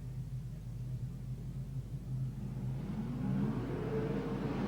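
Race cars at the start of a B main at Newcastle: a steady, low engine rumble from a pack of cars, swelling slightly near the end as they rev toward the green flag, heard from some distance.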